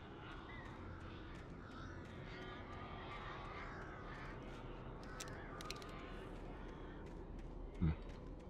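Crows caw intermittently in the Alan Wake video game, quiet and distant over a steady dull ambient rumble.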